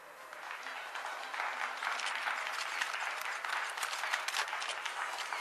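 Sustained applause from a crowd at a ribbon-cutting inauguration ceremony for a newly finished Shrek Energy S.A. plant, with steady dense clapping throughout, moderately near and without speech.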